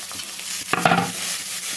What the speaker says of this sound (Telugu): ఇవి కూడా లైట్గా వేగితే సరిపోతుందండి ఎక్కువ వేగాల్సిన అవసరం లేదు